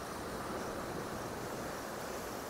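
Sea waves at Kondura beach on the Konkan coast at nightfall, heard as a continuous broadband wash of surf, moderately loud and steady with no voices.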